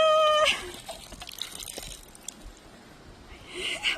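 Water splashes and trickles out of a newly drilled well pump in an uneven, sputtering flow, with a brief high whine at the start and another near the end; the water comes out dark.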